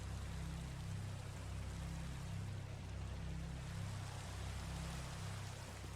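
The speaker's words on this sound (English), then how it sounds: "Only because it's raining." Rain falling in the Minecraft video game, a steady soft hiss that stays even for six seconds under a low repeating hum, faint and with no talking.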